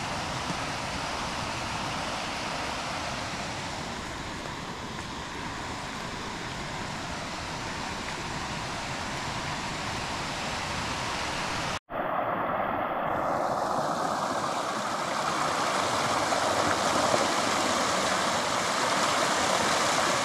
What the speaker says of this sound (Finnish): Hieno joki.